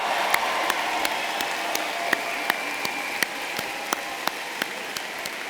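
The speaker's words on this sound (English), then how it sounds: "let's hear another round of applause for all the graduates" Sustained applause from a commencement audience cheering pharmacy graduates, a steady broad roar of many hands with scattered sharper claps ringing out regularly over the crowd noise.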